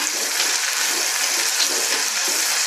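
Native tomatoes tipped into a pan of frying garlic for a garlic curry, giving a steady, loud, close hiss and sizzle that runs without a break and carries no talk.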